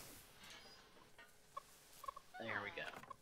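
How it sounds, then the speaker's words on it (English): Birds in the zoo game Planet Zoo, just freed from their boxes, give a few soft chirps and then a nearby flurry of gobbling, clucking fowl calls that grows louder toward the end. "And the magic birds out of the boxes."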